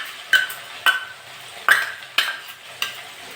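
Fried potatoes with poppy seed paste are stirred in a pan, with five sharp spoon scrapes and clacks at a loose rhythm over a faint sizzle.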